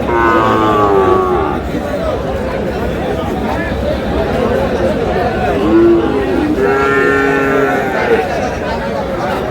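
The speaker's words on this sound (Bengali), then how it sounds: "শাহিওয়ালের ষাঁড় বাচ্চা" A Sahiwal bull calf moos in long, drawn-out calls at a busy cattle market in Chattogram, heard over constant crowd chatter and nearby voices.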